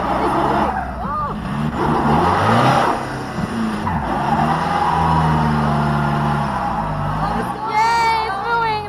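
A VW Jetta MK4 TDI slips its clutch to pull away, engine drone with scrabbling, squealing strain running steadily under excited voices and cheering, growing louder near the end.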